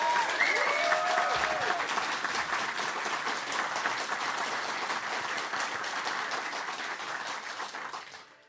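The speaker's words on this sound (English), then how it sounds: "join me in a round of applause for everyone that has helped make this" A large audience applauds steadily at an EverQuest fan celebration, the Fippy Fest gathering, with dense, sustained clapping that fills the room and tapers off at the end while faint voices murmur beneath it.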